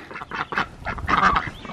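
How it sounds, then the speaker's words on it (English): Ducks outside their paddock give off several loud, nasal honking quacks in quick irregular bursts, close by with no talking. "there are a bunch of ducks out"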